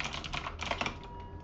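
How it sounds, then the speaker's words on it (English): Quick, close clatter of fingers typing hard on a computer keyboard with mechanical switches, a rapid run of key clicks lasting little more than a second. "I have to type while I talk."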